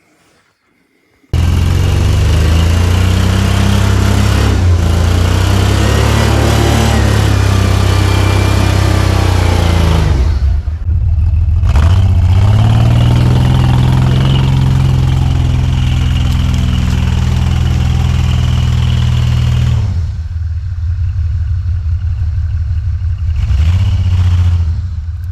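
Steady engine drone of a small Jeep revving and running loud and close throughout an attempted donut, with a brief dip in the middle and no talk.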